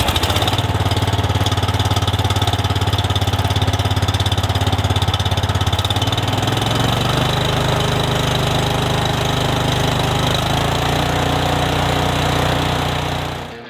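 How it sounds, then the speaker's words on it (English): A Cub Cadet 2X 30-inch EFI Intellipower snowblower engine runs loud and close, a steady single-cylinder chug that shifts to a lower, smoother idle midway before cutting off at the end. "the Cub Cadet 2X 30-inch EFI Intellipower optimized performance snowblower"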